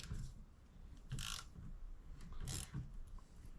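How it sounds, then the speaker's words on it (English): A thread tap cuts into the metal of a steering box, giving a few short grinding, ratcheting scrapes that come in bursts as the tap is worked back and forth, close and quiet. "Remember, you're cutting into metal, making threads"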